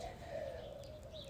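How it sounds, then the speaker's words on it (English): Doves cooing close by, a soft steady low call that runs unbroken under faint background hiss. "I don't know if you can hear them, but we have some doves,"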